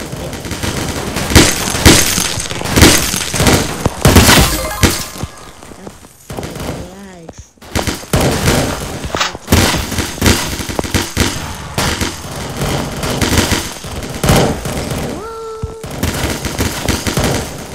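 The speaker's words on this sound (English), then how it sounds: "Everybody's shooting at me." Enemy gunfire in a video game comes as dense bursts of rapid shots and sharp impacts that keep going with only a brief lull, while a player talks over the noisy action.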